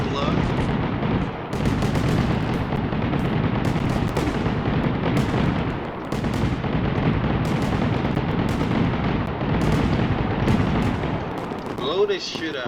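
Fireworks explode in the video game Fireworks Mania in a dense, continuous barrage of loud booms and crackling bursts, with a voice speaking briefly near the end.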